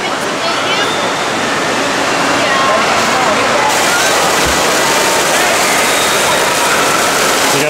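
Waves rush in a loud, continuous wash of broadband noise that stays steady across the whole stretch, with a slight surge partway through.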